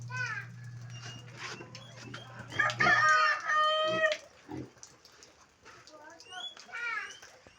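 Chickens cluck and crow in short bursts around a steady low hum, with a few clear calls rising in the middle and scattered fowl noises after.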